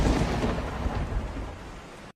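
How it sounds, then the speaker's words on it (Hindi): A loud rolling thunderclap rumbles over steady heavy rain, the dense wash of sound holding for about two seconds before cutting off abruptly. "बाहर घनघोर बारिश हो रही थी और बिजली कभी कभी कड़क कर माहौल को और भी डरावना बना रही थी।"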